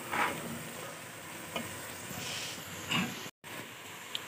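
Radish, radish leaves, green chillies and eggplant fry in a pan for a mixed vegetable sabzi, giving a soft steady sizzle with occasional stirring scrapes, faint and close.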